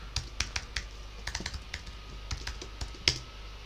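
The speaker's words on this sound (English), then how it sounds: "I can't type my password." Someone types a password on a computer keyboard, sending out short bursts of close, crisp key clicks in an uneven rhythm. The bursts pause between runs and end with one louder final tap.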